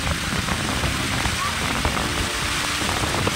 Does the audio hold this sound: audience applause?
no